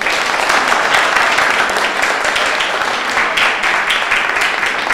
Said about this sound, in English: If you believe that, give a hand clap.